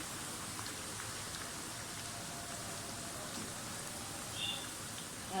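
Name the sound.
onions frying in a pan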